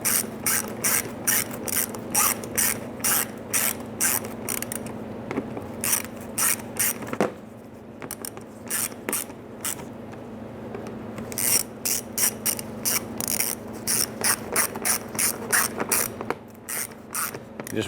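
Ratchet wrench snugging down the grille fasteners on a 2005-2010 Chrysler 300, a fast, crisp clicking that runs in repeated bursts with a short pause around the middle, close and loud with no talking.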